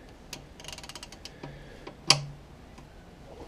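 A ratchet clicks in a quick series, then comes a sharp crack as the oil drain bolt breaks loose on the sump of a Ford Galaxy 2.0 TDCi, all close and moderately quiet.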